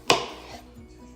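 A kitchen knife cuts a single slice through a halved jicama on a cutting board, one sharp crisp chop followed by a brief fading scrape, close and alone.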